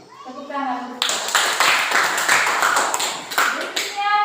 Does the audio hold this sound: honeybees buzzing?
no